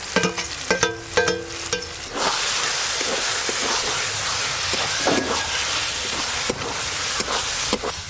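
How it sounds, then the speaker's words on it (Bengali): Spice paste being stir-fried with fried onion petals in a pan for a Bengali onion katla fish dish, giving a steady loud sizzle and hiss with scraping stirs and clinks near the start, alone without talk. "ভেজে রাখা পেঁয়াজের পাপড়ি দিয়ে ভালো করে কষে নিয়েছি"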